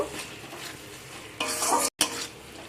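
Masala with three spoons of kasuri methi is stirred and fried in a pan for Beresta chicken; scraping spoon strokes ride over a soft sizzle, with one brief dropout near the end and no talking.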